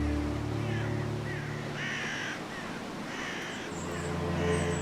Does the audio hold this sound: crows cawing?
yes